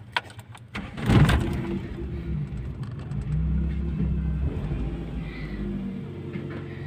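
A Toyota Corolla 16-valve petrol engine runs at a raised idle, a steady low rumble close by after a brief louder surge near the start.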